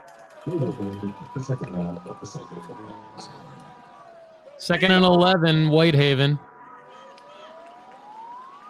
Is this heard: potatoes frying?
no